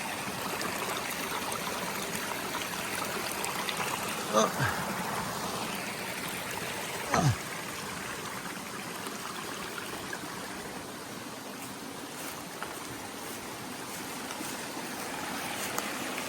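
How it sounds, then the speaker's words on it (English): Steady rush of a waterfall and a stream running over rocks, continuous and moderately loud, with a few brief knocks and no voices. "Waterfall on this side too."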